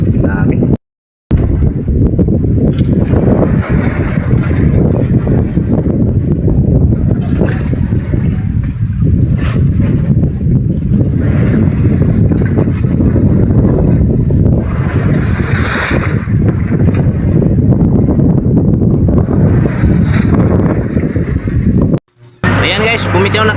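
A small fishing boat travels across choppy open sea, with a loud, steady engine drone, rushing water and heavy wind buffeting the microphone throughout, and a voice faintly heard under the noise.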